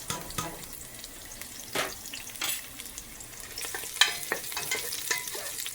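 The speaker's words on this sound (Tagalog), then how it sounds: "Ngayon, lalagay natin ang bawang." Garlic frying in a pan with a steady sizzle and a few sharper spatters and crackles, alone with no voices.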